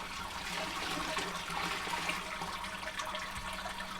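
Water pours steadily into a homebrew mash system over thick grain for a Kveik Strata SMaSH beer, a continuous rushing trickle filling the vessel with no speech.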